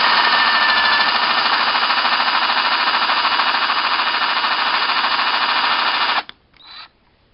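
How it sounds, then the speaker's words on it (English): A power drill with a 1/8-inch bit whines loudly and steadily for about six seconds while drilling a center hole during Firebird convertible top repair, then cuts off abruptly, followed by a short brief rev before quiet. "if you just drill the center hole with a 1/8 drill bit"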